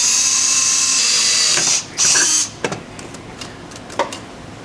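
A power drill bores a hole through the chassis of a 1984-1987 Honda Civic, a loud steady high whine that dips, surges again, then stops, leaving a few faint knocks and clicks.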